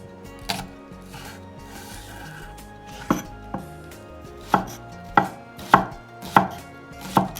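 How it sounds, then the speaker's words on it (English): Knife chopping through green onions on a cutting board, a scattered series of crisp, close taps that quicken into a steady rhythm toward the end, over quiet kitchen background. "Green onion. I've got 3 here. First I got to split them."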